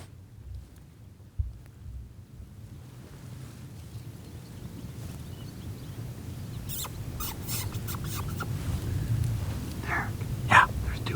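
A Reese Outdoors RSS6 predator call blown to bring in coyotes gives short, squeaky, high-pitched distressed squeals late in the clip, heard over steady wind noise in an open field.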